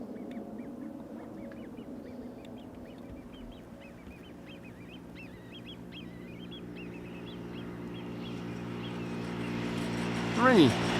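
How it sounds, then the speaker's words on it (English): A business jet flies the downwind leg for landing at Amsterdam Schiphol, a distant steady engine drone that slowly grows louder, with birds chirping and people talking over it. "BizJet on the downwind for runway 22."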